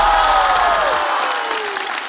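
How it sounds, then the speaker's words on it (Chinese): A studio audience at a Chinese stand-up comedy competition show claps loudly and densely for the whole stretch, while a bright musical sting glides downward over the applause. "掌声有请高寒。"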